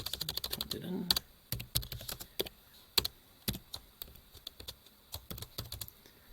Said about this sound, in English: Typed it in.